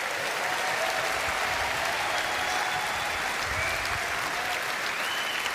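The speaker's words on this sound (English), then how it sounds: "Give him a round of applause." Sustained audience applause fills a political party conference hall, a dense, even roar of many people clapping together without a break, with no speech on top.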